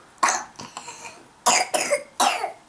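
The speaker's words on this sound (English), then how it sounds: "Oh, bad cough." A person gives four harsh, loud coughs close to the microphone, spaced unevenly with short gaps between them, and no one talks over them.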